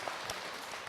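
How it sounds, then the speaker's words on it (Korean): A lecture hall audience breaks into steady, dense applause, a continuous patter of clapping hands from a crowd during a Buddhist monk's question-and-answer talk. "박수"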